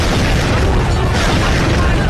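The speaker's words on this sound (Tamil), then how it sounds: "என்ன வெடிச்சிருச்சு?" A loud, dense explosion sound effect roars as one continuous booming blast for about two seconds, filling the whole clip without pause.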